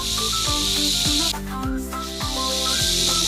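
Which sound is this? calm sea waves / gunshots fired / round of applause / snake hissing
snake hissing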